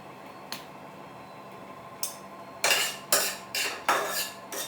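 Dry fruits, including figs, roast in ghee in a pan as a spoon stirs them. A few soft taps come first, then a run of rhythmic, louder scraping strokes against the pan, close by.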